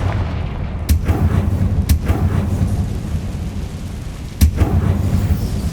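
Booming blasts of the Confringo spell in Hogwarts Legacy, three sharp impacts roughly a second or more apart over a heavy rumbling low bed, loud and close with no talking.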